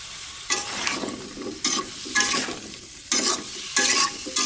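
Sweet pumpkin cooking with meat spices in a pan, stirred vigorously in repeated scraping strokes over a constant sizzle, loud and close with no talk.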